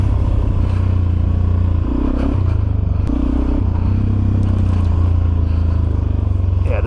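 A Suzuki DRZ400SM motorcycle thumps along a rough, rocky trail on Rampart Range, its loud, low engine drone rising and falling with clattering and scraping from the terrain.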